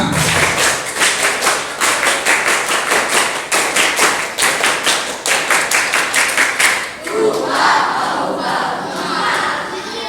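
Junior high school students at SMP Negeri 2 Bulu clap in a rhythmic two-clap cheer during a talk on waste. Many hands strike together in tight repeated pairs, loud and close, and the clapping breaks into looser crowd noise and chatter near the end.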